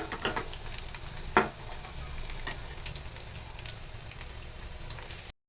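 Crushed chilli, garlic and cumin fry in hot oil with a steady crackling sizzle, broken by a few sharp spatter pops and clinks of stirring.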